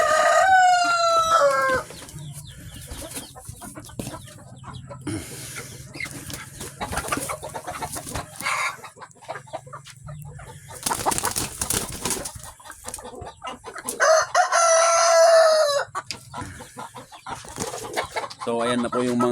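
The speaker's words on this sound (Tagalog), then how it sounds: "So ayan na po yung mga bago nating mga manok." Several farmyard chickens and roosters on a breeding farm, with repeated loud cock-a-doodle-doo crows near the start and around the middle, scattered clucking throughout, and occasional talk between calls.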